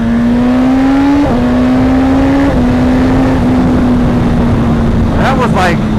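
A 2016 BMW S1000RR sport motorcycle accelerates hard with a loud, buzzing engine tone that steps through several quick upshifts over heavy wind rush, recorded from the rider's position.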